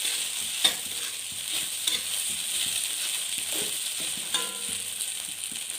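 Ragi semiya being stirred with grated coconut in a pan, giving a steady soft scraping and light sizzle with a few sharper clicks of the spoon against the pan, close and alone.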